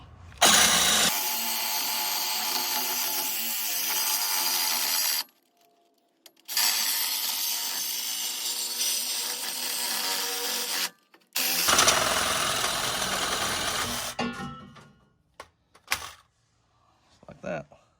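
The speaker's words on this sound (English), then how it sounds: "Take my battery powered saws off." Battery-powered saw cutting through a Jeep Wrangler JK exhaust tailpipe, loud sustained buzzing in three long bursts separated by short pauses, ending in a few brief rattling sounds.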